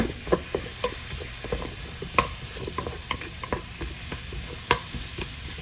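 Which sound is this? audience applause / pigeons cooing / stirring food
stirring food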